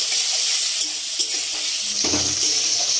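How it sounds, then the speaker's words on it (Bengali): Onions frying in a pan for a chicken liver curry, a steady close sizzle with some stirring clatter partway through, and no talking. "পেঁয়াজগুলো লাল লাল করে ভাজা হয়ে গেছে"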